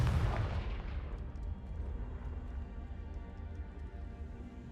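A Confringo blasting curse explodes in the Hogwarts Legacy video game, a loud booming burst at the start that decays into a long rumbling tail.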